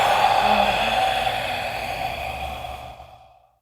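Forceful exhale in a Ki Gong breathing exercise, one sustained breathy push lasting nearly three seconds and tapering off into silence, close and clear with no speech.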